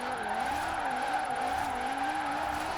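A V10-swapped BMW Z4 drifts in the racing game Forza Horizon 4, its engine holding a steady, wavering high drone with a thin layer of tire squeal throughout, with no talking.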